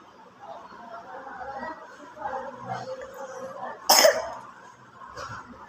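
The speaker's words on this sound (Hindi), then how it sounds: "और एक बच्चे को तो खांसी हो रही है।" A child coughs once, sharp and fairly close, amid a background of children's chatter and giggling in a room.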